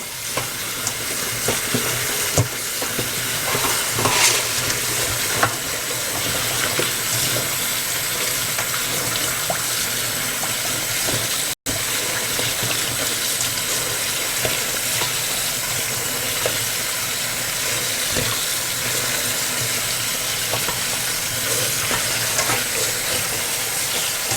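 Mushrooms get rinsed under a running kitchen tap, a continuous close splashing hiss of water that carries on steadily with only a momentary break partway through.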